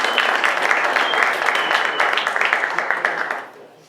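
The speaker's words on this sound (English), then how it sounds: "Well, no applause for that?" A roomful of people at a meeting breaks into steady applause, many hands clapping densely at close range for several seconds before tapering off at the end.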